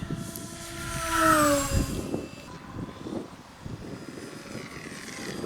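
A Durafly Me 163 Komet RC model rocket fighter flies at half throttle, its steady motor whine rising and falling as it passes, loudest early on, then continuing at a distance.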